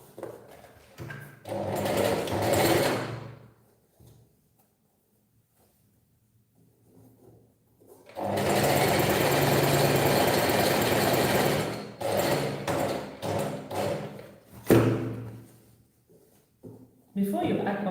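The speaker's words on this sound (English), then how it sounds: "we'll stitch that part up" Sewing machine stitching a waistband onto a skirt, running in two sustained bursts with a quiet pause between and brief handling noises after; speech is also present.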